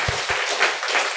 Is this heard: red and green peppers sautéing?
no